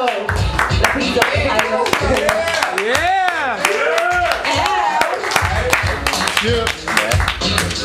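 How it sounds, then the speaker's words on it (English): Audience at a poetry slam claps through lively talk from a host, bursts of hand claps scattered under and between the voice, fairly close and loud. "Keep clapping, because we got the same artist up here."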